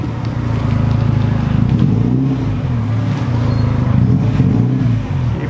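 A car engine drones close by as the car rolls into a garage, a steady low rumble that swells and eases slightly with light throttle changes.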